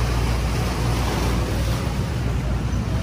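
Sea waves at Manila Bay along the Baywalk wash and churn in a continuous close roar, mixed with gusty wind buffeting the microphone, with no voices.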